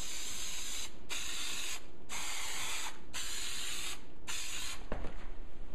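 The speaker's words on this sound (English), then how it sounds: "I'm going to spray real heavy in here so that you have more opportunity before that glue dries" Loud bursts of spray adhesive from a can in repeated pulses of about a second each, separated by short pauses, with a faint clicking of the nozzle, during a car trunk lid install.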